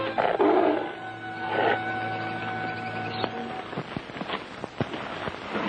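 A big tiger caught in a gun trap lets out a loud, close roar followed by a second shorter one, then low growls and rustling movement fading into quieter scattered sounds.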